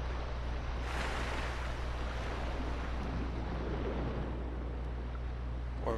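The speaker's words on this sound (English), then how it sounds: "Yeah, there is something at the top of the waterfall here." Rushing water of a waterfall in the video game Sekiro, a broad continuous roaring wash that holds steady and fairly loud throughout with no talk over it.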